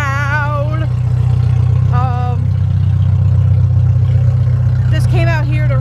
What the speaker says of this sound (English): I'm running my car right now,